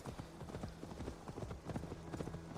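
Horse hooves clip-clop in a steady trotting rhythm in a PS5 video game set among Mercian fighters, quiet and continuous with faint voices mixed in.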